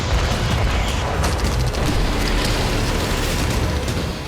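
Explosions in war footage from Kursk make a loud, continuous rumbling roar, a dense wall of booming noise that stays steady with no clear separate blasts and no talk.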